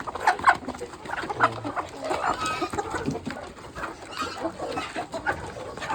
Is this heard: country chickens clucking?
yes